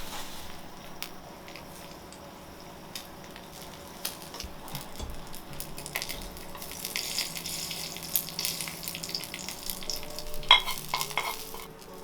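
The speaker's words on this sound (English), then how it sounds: "Cook it in a hot pan with olive oil, almost like frying." Salmon skin frying in a hot pan with olive oil, a soft continuous sizzle and crackle that builds slightly louder toward the end, with occasional scraping and stirring sounds and no speech.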